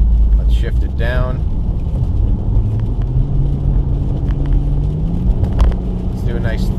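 2016 Dodge Challenger engine after a downshift in sport mode, a steady close rumble with a slowly rising tone under road noise, with brief short bursts of other sound over it.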